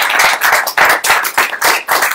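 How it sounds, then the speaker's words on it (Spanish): Clapping for a circus tribute comes as a series of loud, close, rhythmic claps grouped in short bursts with brief gaps, like a small group clapping in unison rather than a broad crowd. "si le damos el aplauso es poco para lo que se merece"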